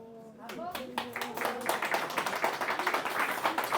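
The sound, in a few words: audience applauding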